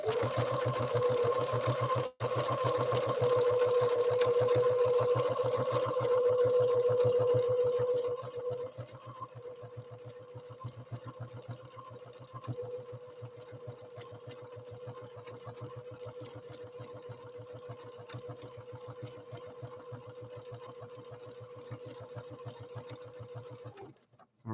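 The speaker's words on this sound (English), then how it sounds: "the machine will manipulate the feed dogs to generate a decorative or ornamental or utility stitch" Necchi NE30 sewing machine stitching a decorative pattern, a close, steady mechanical whir with rapid rhythmic clicking that softens and continues evenly for the length of the clip, then stops.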